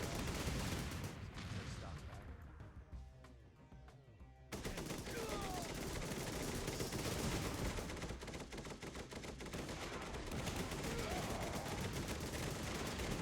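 Rapid automatic turret gunfire from a base defense in the Thunder Run: War of Clans strategy game, loud and dense bursts running nearly nonstop against waves of attacking enemy units, with a brief lull before the barrage resumes.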